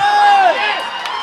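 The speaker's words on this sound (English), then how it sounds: "the crowd cheering our boys on" Spectators at a school rugby final raise a brief, loud burst of cheering and shouting, with a high whoop at the start that fades over about a second.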